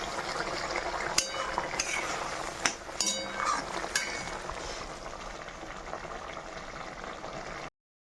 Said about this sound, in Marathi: कालवण शिजतंय